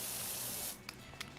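Pressure washer in the PowerWash Simulator video game spraying grime off a wall, a loud hissing jet for under a second that cuts off, followed by faint clicks.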